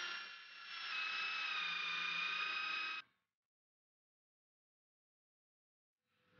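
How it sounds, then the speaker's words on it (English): A power drill spins a 16 mm speed bit through HMR board in a steady, high whine lasting about three seconds, then stops into silence. "Drill HMR using speed bit 16 mm."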